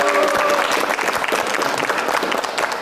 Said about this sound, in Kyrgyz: Толкунданып окшойт да, кол чаап коюңуздар келиңиздер.